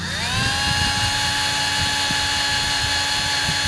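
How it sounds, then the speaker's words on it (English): Unibit step drill bit boring out a battery terminal, a steady high-pitched whine that holds continuously throughout, close and loud, with low rumbling underneath and no talking. "So I'm going to open up this terminal here. Hopefully this unibit won't grab too hard."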